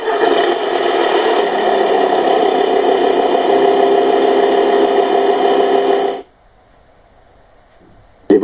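A car engine, started by its traction battery, runs at a steady mid-pitched idle close by for about six seconds, then cuts off into near silence before a brief noise at the end.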